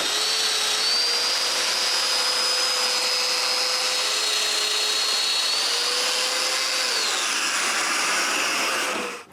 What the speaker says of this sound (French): Après avoir percé les 4 mortaises, je colle chacun des coins individuellement.